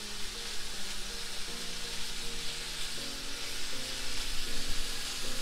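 Food frying in a seasoned orange iron skillet, a steady close sizzle with continuous crackle throughout, with no talk over it.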